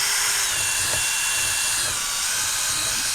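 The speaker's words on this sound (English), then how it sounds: "What we're going to do is just drill a myriad of these little holes right at the edge." A power drill bores a series of small holes along the rim of a rugged plastic utility tub for a machine shop, giving a steady high-pitched whine with no voices.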